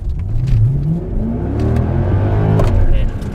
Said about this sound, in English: The first obvious one is the sound of this engine.